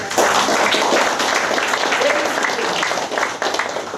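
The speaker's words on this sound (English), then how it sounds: "Give them a big round of applause" Sustained applause from an audience at an entrepreneurship talk, a dense, steady wash of clapping that carries on for the whole stretch with a slight dip near the end, with some crowd noise mixed in.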